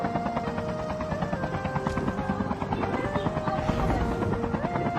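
A helicopter in a video game gives a steady, droning rotor hum that holds for the whole stretch at moderate volume, with a light pulsing rhythm and other game sounds layered in.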